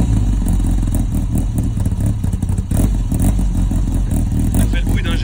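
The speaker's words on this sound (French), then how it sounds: "Elle fait le bruit d'un GSXR. Le ralenti, tu vois, à cause de l'arbre à cam, il est un peu comme ça." A motorcycle idles close by with a lumpy, uneven beat from its camshaft, much like a Suzuki GSX-R, rumbling steadily throughout while voices talk over it.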